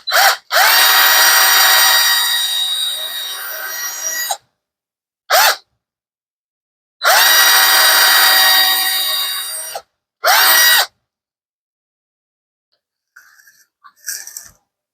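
A power drill enlarges a hole in the body of an 80s Electra bass guitar, whining loudly in two long runs with short bursts between them, each stopping abruptly into silence, followed by faint handling noise.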